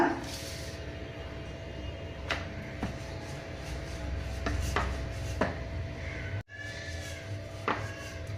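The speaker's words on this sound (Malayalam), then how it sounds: "എല്ലാ വശവും നന്നായിട്ട് പരത്തുക." A rolling pin flattens soft chapati dough on a board, giving light, intermittent knocks and soft rubbing strokes at an uneven pace, close by.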